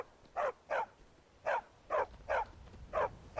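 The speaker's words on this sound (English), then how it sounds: "What are you barking about, boy?" Seven evenly spaced, clear barks from a dog in the video game Skyrim, fairly near and moderately loud, each short and punchy over quiet background.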